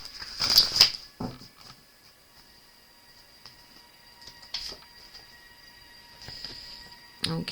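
Short crisp riffles of a deck of wisdom cards, a loud burst at the start, then quieter flicks and taps spread out, with a final riffle at the end.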